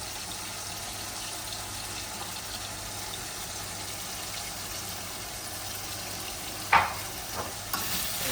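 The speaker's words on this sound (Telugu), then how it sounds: "ఉల్లిపాయలతో పాటు మటన్ కూడా చక్కగా వేగిపోద్ది" Mutton fries with onions, turmeric and ginger-garlic paste for a mutton drumstick curry, giving a steady moderate sizzle with stirring, followed near the end by a short clatter and a splash of water, with no talk.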